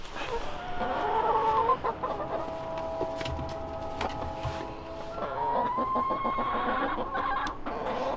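Chickens cluck steadily in a backyard coop, with several birds calling at once in a close, busy chorus that fills the whole stretch with overlapping clucks and short squawks.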